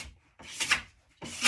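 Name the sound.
scraper scraping wax off nordic ski base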